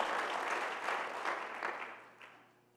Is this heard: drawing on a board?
no